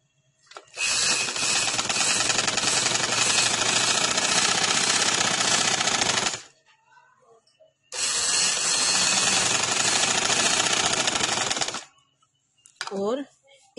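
A sewing machine stitches a dress sleeve in two long, steady buzzing runs of roughly six and four seconds. A short pause falls between them, with faint handling noises after.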